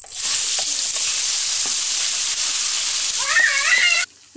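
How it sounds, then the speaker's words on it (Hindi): Ginger, garlic, onion and tomato paste hitting hot oil and fried spices in a pan, a loud steady hiss of sizzling throughout with a few soft stirring knocks, then cutting off abruptly near the end. "अब इसमें हम जिंजर, गार्लिक, ऑनियन, जो टमाटो का पेस्ट बनाया था उसको डालेंगे।"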